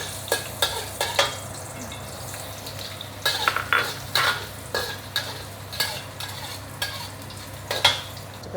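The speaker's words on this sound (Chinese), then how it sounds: "爆香那个蒜米一点" Minced garlic stir-fried in a wok for longevity noodles, with a steady low sizzle under repeated scraping clatters of a spatula against the pan.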